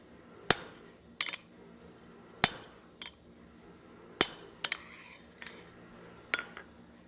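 Sharp metallic taps ring out at uneven intervals, single strikes and quick doubles of a hand hammer on a steel chasing tool beneath a treadle hammer, close and clear.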